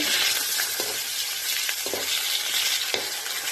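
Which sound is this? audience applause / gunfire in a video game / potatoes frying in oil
potatoes frying in oil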